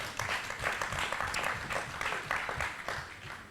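Audience applause at a civic festival, a continuous crackle of many people clapping, moderately loud and steady for a few seconds with no talk over it.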